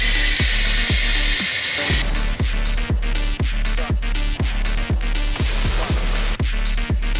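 A pressure-washer spray hissing across a damaged Corvette during a wash, a loud continuous spray with a rapid pulsing pump rhythm, close and alone without talk.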